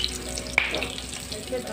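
Parwal kalonji frying in a pan over medium heat gives a steady, soft sizzle with a brief clink near the start, while a voice speaks a single word.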